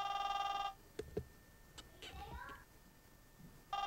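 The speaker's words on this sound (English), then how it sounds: "Especially with the dang phone ringing." A telephone rings indoors in bursts of bright electronic trilling, one at the start and another at the end, with quiet voices and small sounds in between.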